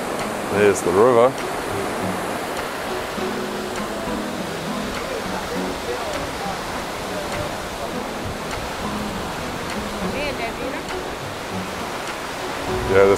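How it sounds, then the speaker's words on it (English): A river rushes steadily near Shifen Waterfall in Taiwan, a broad continuous wash of flowing water at moderate volume, with brief voices near the start and end. "There's the river."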